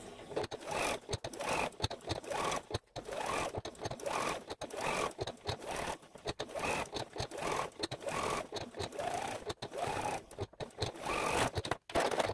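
A sewing machine stitching quilt block pieces, a continuous close whirring hum with brief stops and restarts as the fabric is turned, no voices over it.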